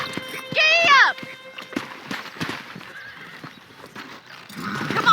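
A horse in the Red Dead Redemption video game lets out a loud, rising whinny near the start, followed by quieter hoofbeats and movement, with a voice talking partway through.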